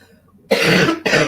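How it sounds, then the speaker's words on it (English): Two harsh coughs close to the mic, the first longer and the second a short follow-up burst. "I'm coughing here."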